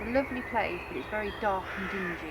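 Crows caw repeatedly in woodland beside a Warwickshire crematorium, a series of raspy calls close by, while someone talks over them throughout.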